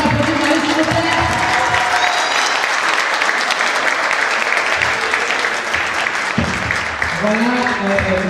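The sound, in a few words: audience applauding the university theatre troupe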